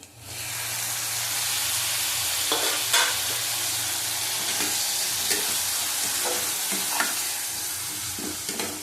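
Tomato paste stir-fried in a pan for a prawn curry cooked with milk: a steady close sizzle runs throughout, with scraping spatula strokes at irregular intervals and no talk.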